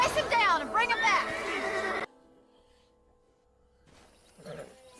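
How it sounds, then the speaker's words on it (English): A stallion in Red Dead Redemption lets out a loud, shrill, wavering neigh up close, then near silence, and a voice speaks briefly at the end. "Hey, the stallion's getting away!"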